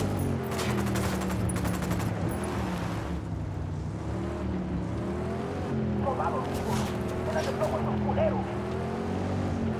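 Sustained gunfire from a tactical shooter firefight in Ghost Recon Wildlands, dense bursts over engine-like rumble and ambient noise, with a voice speaking briefly amid the shooting.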